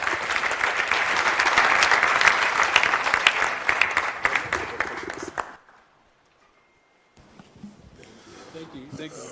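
Audience at the NSMQ 2025 National Championship launch claps in a loud sustained burst of applause that cuts off abruptly, followed by a short silence and then faint murmuring.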